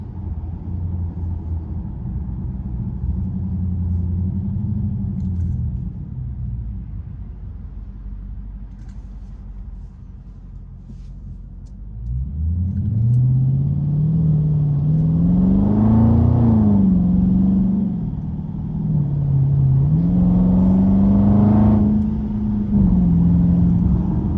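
A car with automatic transmission in sports mode accelerates hard, engine note climbing and surging through repeated rises and dips, loud and close with a steady rumble underneath.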